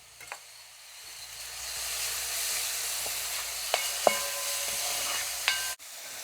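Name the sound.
crushed green chillies frying in pan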